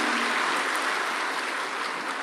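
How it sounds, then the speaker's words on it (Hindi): Loud, dense applause from an audience at a Shiv Mahapuran religious discourse in Amravati, welcoming the host family, steady and continuous throughout with no gaps. "एक बार यजमान परिवार के लिए जोरदार ताली बजाकर स्वागत, वंदन, अभिनंदन।"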